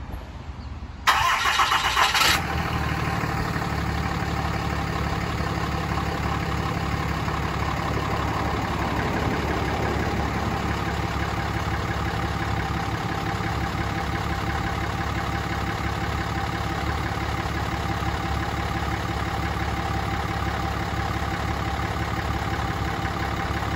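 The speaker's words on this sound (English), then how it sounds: "Going to do a startup for you as well with the remote start." A 2016 Ram 3500 4x4 truck is remote-started on a cold day: a brief cranking burst catches, then the engine settles into a steady, even idle that runs on unchanged for about twenty seconds, close and alone.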